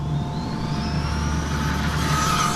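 A Losi Promoto MX 3S RC motorcycle runs at full throttle outdoors with a continuous loud high-pitched electric motor whine, rising slightly in pitch as it speeds away.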